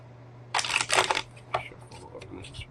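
Tarot cards being shuffled during a live reading, giving a few loud papery riffling bursts over roughly a second, then scattered softer shuffles with a low steady hum beneath.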